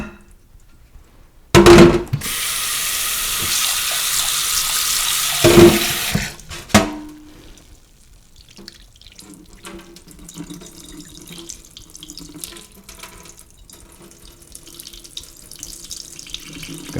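Tap water gushes loudly into a sink to rinse grated potato, two strong bursts of running water separated by a brief pause, then fading to quiet kitchen handling noises.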